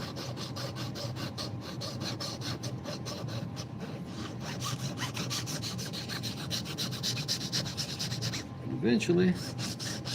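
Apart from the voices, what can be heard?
filing a wooden dowel to make it smaller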